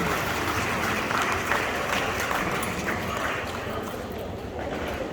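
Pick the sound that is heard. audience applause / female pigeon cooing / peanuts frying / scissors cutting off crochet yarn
audience applause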